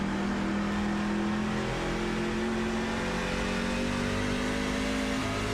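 Truck engine in a rookie-class truck series race at Indianapolis in a racing video game, a loud, steady drone that rises slowly in pitch as the throttle opens.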